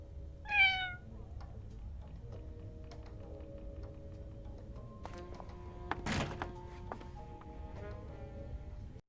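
Cat meowing inside the video game 1954 Alcatraz, a single short mew near the start, followed by a dull thunk, light clicks and a sustained musical tone over a low background hum.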